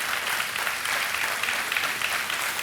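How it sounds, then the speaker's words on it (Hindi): Studio audience applause, a dense steady wash of clapping that holds loud and even throughout, with no talk over it. "विनीता जैन के लिए तालियां बजती रहनी चाहिए।"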